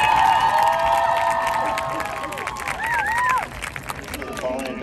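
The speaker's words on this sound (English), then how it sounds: "One more big round of applause for the 2021 edition of the Los Osos Regiment" A crowd cheers and applauds for the 2021 Los Osos High School marching band, loud and near at first, then fading into scattered shouts and whistles while an announcer speaks over it.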